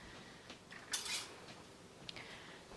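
A metal spoon clinks against dishes and cutlery as it is fetched in a home kitchen during pineapple zucchini canning, a brief bright clatter near the start followed by a fainter clink later.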